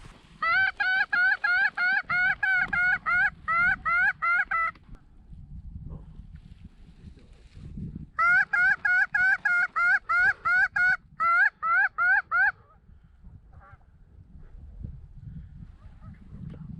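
Geese honking during a Thanksgiving Day goose hunt, two loud bursts of rapid repeated honks close by, separated by a few seconds of quieter outdoor background.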